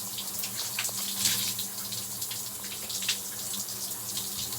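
Tap water runs steadily into a sink while hair is rinsed upside down, a constant hissing splash with small fluctuations, close and alone without talk.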